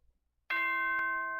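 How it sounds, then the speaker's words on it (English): A doorbell chime from the video game Danganronpa rings out after a moment of near silence, one bright sustained tone with ringing harmonics that slowly fades. "Ding dong."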